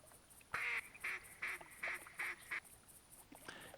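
Mallard long-range duck call in theHunter Classic: six loud, evenly spaced quacks in a steady rhythm, each short and bright, followed by a softer trailing call.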